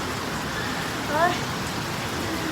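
Steady rain falls throughout as a dense, even hiss, with one brief nearby voice-like chirp partway through; no thunder is evident.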